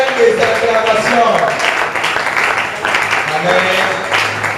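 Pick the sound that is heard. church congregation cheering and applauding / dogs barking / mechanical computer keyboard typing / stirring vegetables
church congregation cheering and applauding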